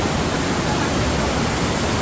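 Kambal Busay waterfall in Bulusan, Sorsogon, pouring as a steady broadband roar of falling water, close and loud, with no break or voices.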